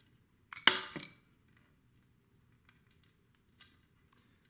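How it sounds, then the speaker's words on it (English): X-Acto knife cutting and peeling wood slivers from a cheap board along the grain, with one sharp scraping cut followed by a few faint, scattered ticks and scratches in a quiet room. "take your X-Acto knife, cut away from you, and just go down the grain"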